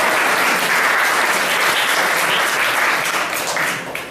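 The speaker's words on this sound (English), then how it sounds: "That's what we do a double clap" Large audience at a Detroit community event clapping in a dense, sustained wave of applause that stays loud throughout before easing slightly at the end.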